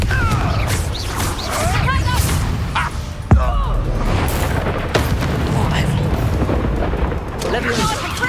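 Confringo blasting spells explode in a Hogwarts Legacy duel, one sharp loud burst standing out amid continuous rumbling combat noise and spoken spell incantations.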